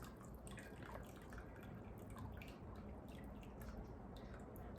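Broth and juices from a store-bought rotisserie chicken dripping steadily from a lifted strainer, a faint, dense patter of small drops without pause.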